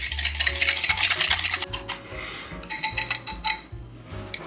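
Spoon clinking and scraping in a bowl as a tangy burger sauce with pickle juice, bourbon and chopped gherkins is stirred, a run of quick close taps and scrapes, fairly quiet, with no voices.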